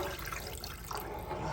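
Water is poured into palm nut liquid for Banga seafood soup, a continuous close splashing and trickling that swells slightly toward the end, with no talking.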